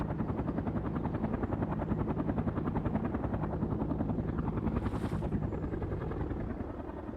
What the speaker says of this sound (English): Mi-24 on the move.